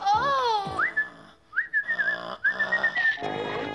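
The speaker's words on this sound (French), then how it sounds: "C'est un sifflet." A toy whistle gives several short notes, rising glides and held tones in bursts with brief gaps, fairly close and clear, with no one talking over them.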